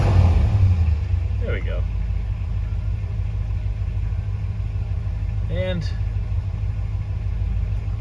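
A 1966 Pontiac Catalina 389 V8 coupe idles with a steady, deep, continuous rumble, heard from close by while someone talks briefly over it.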